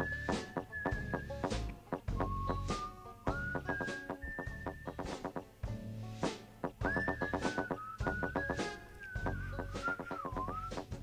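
Melodic whistling carrying a tune in The Neverhood video game music, with sustained and sliding notes over a rhythmic, percussive backing of plucks and thumps, clear and prominent throughout.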